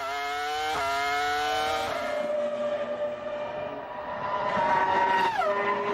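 Formula 1 cars exit the pit lane with high, whining engine tones that rise and shift through gear changes, loud and fairly close, one car's note sweeping past near the end.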